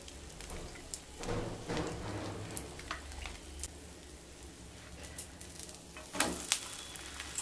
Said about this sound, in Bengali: দুটো সাইড খুব ভালো করে তেল দিয়ে কিন্তু ভেজে নিতে হবে।